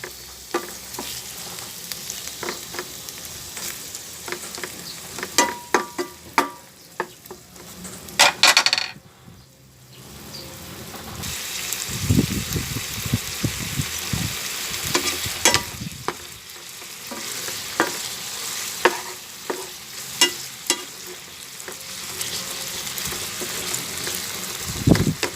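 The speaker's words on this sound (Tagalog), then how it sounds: "Hintayin natin guys ma-brown yung ating chicken guys." Chicken sizzles and browns in a pan, a continuous frying hiss broken by stirring, scraping and occasional clinks of a utensil against the pan.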